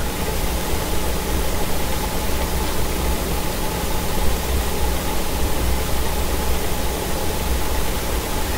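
A twin-rotor mini Bubbleator runs at reduced speed, making a steady, even whirring hum with broadband hiss that holds constant and loud throughout, with no pauses or speech.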